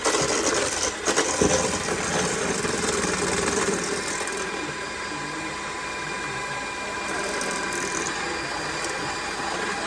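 Electric hand mixer whirring steadily as it beats an ice cream base for butter pecan ice cream in a tilted bowl, a continuous close motor hum with brief louder bumps near the start.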